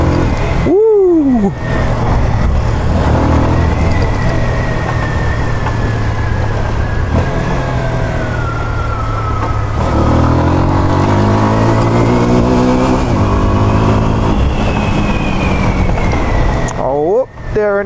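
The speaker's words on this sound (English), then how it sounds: "this bike pulls in every gear except for fifth." A Jamco T200 motorcycle (new type) accelerates hard through its gears, the engine loud and close as it revs, shifts and climbs again, with wind rushing past and a rider's voice briefly heard.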